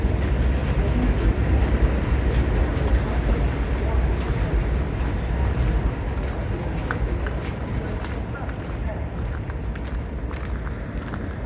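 A Long Island Rail Road train pulling into Woodside station, a steady loud rumble of wheels and motors with broadband roar and some wind noise, continuous throughout and easing slightly toward the end.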